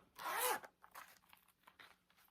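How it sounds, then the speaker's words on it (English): The zipper on the middle section of a thrifted handbag with a leather-feel interior is pulled open in one quick close zip, followed by faint rustling and handling of the bag. "Then you're going to have a middle zipper section."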